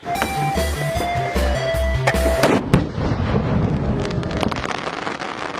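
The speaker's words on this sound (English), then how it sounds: "I decided to attach fireworks to a skateboard" Fireworks attached to a skateboard crackle and pop in rapid bursts over a rumbling rolling noise, with music-like tones early on, loud and continuous throughout.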